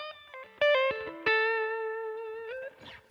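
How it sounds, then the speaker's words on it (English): Electric guitar picked with the soft, fleshy tips of the fingers in a blues style: a few short plucked notes, then sustained bent tones ringing out through an effects unit, clear and close, with no talking. "if you play with the edge or the tip of your fingers, where it's really soft and fleshy"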